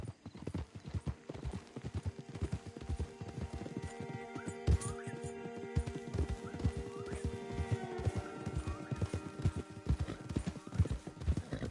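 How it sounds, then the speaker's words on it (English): Horse hooves clop steadily in Red Dead Redemption 2, a dense, rhythmic patter of several horses close by, with an occasional whinny and a faint musical tone beneath. "Don't want the horses clopping around outside the window."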